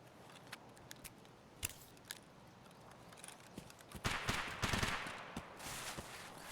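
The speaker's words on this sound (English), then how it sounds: "Already getting shot at" Gunfire in Escape From Tarkov on the Woods map, sharp single shots cracking at irregular intervals, then a denser burst of shots and rustle, mostly distant and faint.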